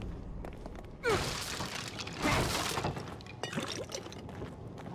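Water splashing and sloshing in The Evil Within video game, in two louder bursts over a faint wet background, fairly close, with no talking.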